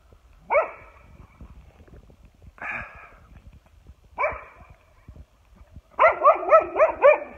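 A dog barks close by in three separate single barks spaced a second or two apart, then a fast burst of several barks in a row, with quiet room noise between.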